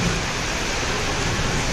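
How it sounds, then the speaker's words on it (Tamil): Rain falls hard on a rooftop terrace in Madurai, a dense, unbroken roar of water filling the short moment at close range. "சரியான மழை"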